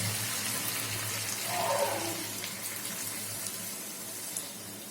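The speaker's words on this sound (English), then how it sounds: "Now we're putting some water." Water pours in a steady, splashing stream into a chicken curry pot, fairly close and moderate in volume, then eases off.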